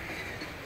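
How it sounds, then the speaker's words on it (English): A passing train rumbles steadily in the background behind a backyard, a broad continuous roar with faint rail clatter, fairly distant. "Sorry about the train, you're gonna hear a lot of that in these videos."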